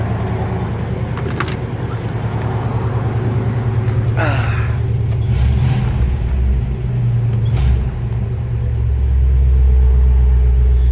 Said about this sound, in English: the Nailhead engine has a very distinct sound